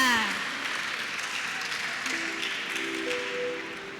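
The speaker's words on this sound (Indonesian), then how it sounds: "mari kita berikan tepuk tangan yang meriah untuk pembukaan Lustrum ke-12 SMA Pangudulur Jakarta" Moderate, fairly distant clapping from a crowd at the opening of a twelfth lustrum anniversary event at SMA Pangudi Luhur Jakarta, with music tones and some voices faintly mixed in.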